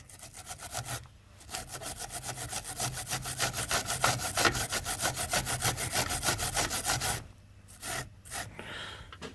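Wire brush scrubbing a Myford lathe wet with brake cleaner: steady, rapid back-and-forth rasping strokes, close and fairly loud, running continuously with a brief pause near the start and ending after about seven seconds.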